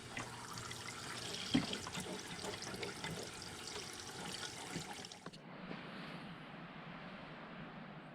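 Water running steadily from a hose or tap over a car part for a Ford repair job, a continuous close splashing hiss that changes to a softer, duller flow partway through.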